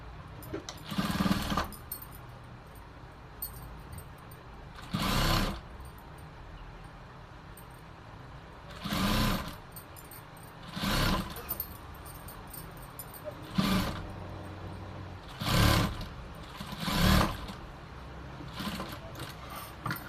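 A domestic sewing machine stitches a shirt collar in short, separate bursts of rapid whirring, about seven runs with quiet pauses between, close and clear.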